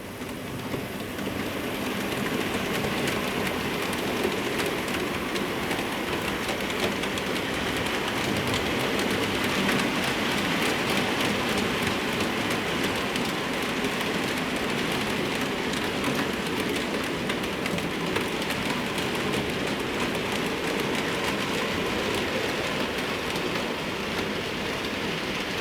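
Model mixed freight train running through a station on a layout, a steady, unbroken rolling rumble and hiss of wheels on track at an even, moderate level.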